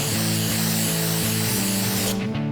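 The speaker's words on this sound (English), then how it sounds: "I just spray both the convertible top and the header bow" Industrial contact cement sprayed onto a convertible top and its header bow: a loud, continuous close-up hiss that runs steadily before cutting off abruptly near the end.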